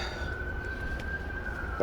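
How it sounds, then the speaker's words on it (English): A distant siren holds a long, steady wail over low background rumble, ending with a sudden louder noise. "you hear the sirens?"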